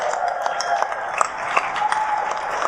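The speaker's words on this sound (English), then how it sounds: "Let's give Rich a round of applause." Audience applause at a community event, a steady wash of clapping with a few sharper claps standing out, moderately near and sustained throughout.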